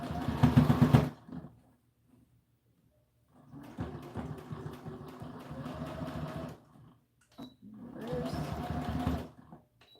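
Sewing machine stitching a doll dress seam in three separate runs, each a rapid whirring burst, the first loudest, with quiet pauses and small clicks between them.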